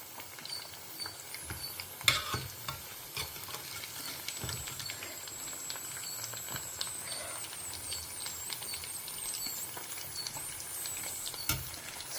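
Taro pieces frying in oil, a quiet, crackling patter of bubbling oil with scattered small pops and a couple of sharper clicks, heard fairly faint and without talking.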